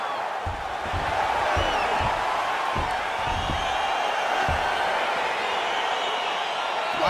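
A crowd cheering in the EA Sports UFC 4 fighting game, a steady roar of arena noise with occasional thumps and whoops, under a commentator's voice.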